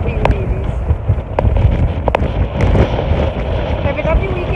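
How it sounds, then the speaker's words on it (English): Strong wind gusts across a beach on a stormy day, roaring and buffeting the microphone steadily with sharp crackling bursts throughout. "You can see how windy it is."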